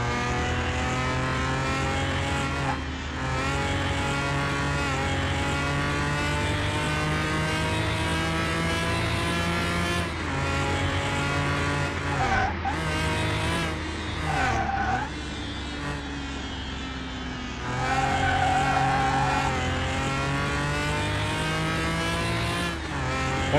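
Car in Car Mechanic Simulator 2021 driven with heavy oversteer, the engine holding a steady high drone with shifting pitch, broken by tire squeals and skids as it slides, close and continuous.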